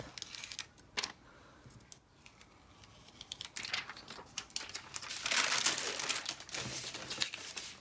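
Printable heat transfer vinyl is peeled off a canvas for a Mother's Day reverse-canvas craft, making close crinkly rustles and sharp crackling bursts that grow louder and denser midway through, with no talking.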